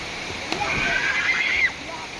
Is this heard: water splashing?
yes